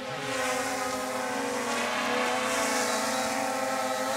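A DJI Mavic drone's motors drone steadily at full speed while straining to lift an added weight, a loud continuous buzzing whine with stacked harmonic tones that holds nearly level throughout.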